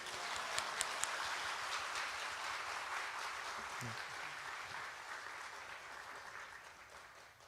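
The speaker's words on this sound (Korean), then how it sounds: "우리 교수님 나오실 때 우리 할렐루야 하면서 박수로 맞이하겠습니다." Church congregation at a Sunday evening worship service clapping to welcome a professor to the front; a soft, even, continuous wash of applause heard from a distance, steady throughout.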